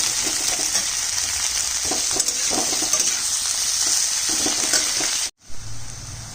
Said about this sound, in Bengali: এবার দিয়ে দিচ্ছি কাটা পেঁয়াজ। পেঁয়াজটা লাল করে ভাজবো।